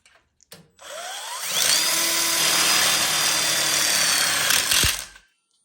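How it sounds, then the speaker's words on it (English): A power drill drives a cement board screw into an outdoor kitchen frame, first clicking briefly, then spinning up into a loud, steady whine for about four seconds before stopping abruptly. "lock it in with the screws"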